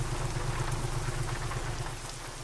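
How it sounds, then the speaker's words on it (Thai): Heavy rain pounds steadily on a Scania P410 truck hauling a 47-ton transformer in Euro Truck Simulator, a dense hiss over a low pulsing engine drone, loud and constant with no voices. "ฝนตกแรงเอาเรื่องเลย"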